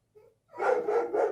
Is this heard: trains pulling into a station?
no